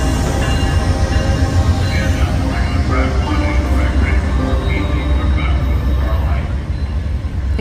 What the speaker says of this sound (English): At last there was the sound of a train horn and the lights of our train came into view.